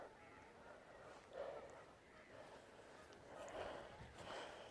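Geese honk faintly in the distance outdoors by a Yorkshire reservoir, a few scattered calls rising over soft steady background noise.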